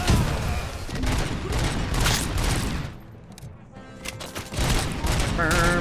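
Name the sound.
gunfire from the video game Robocop Rogue City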